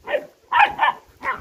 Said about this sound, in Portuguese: os cachorrinhos brigando aqui